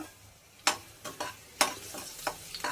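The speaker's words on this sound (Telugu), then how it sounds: "ఇలా వేగుతున్నాయి కదా" Green chillies frying in a pan, a low sizzle broken by several sharp scraping stir strokes at irregular intervals, close by with no talk.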